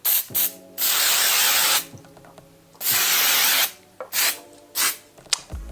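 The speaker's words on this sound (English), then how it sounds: "I left all the circuit boards intact and actually just sprayed the contact spray through here" Contact spray hisses in long close bursts into the circuit boards of a TC Helicon VoiceLive 3 vocal effects unit, with short clicks and mechanical handling between sprays.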